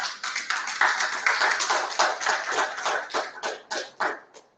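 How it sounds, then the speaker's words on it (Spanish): An audience at a formal session applauds, giving a steady, close patter of many hands clapping that swells, then thins into scattered, separate claps before fading out. "Un aplauso, por favor."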